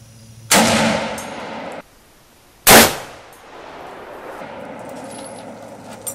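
Two loud, sharp reports from a Ruger M77 Hawkeye .25-06 rifle fired at steel targets, each cracking and ringing out briefly, a couple of seconds apart outdoors.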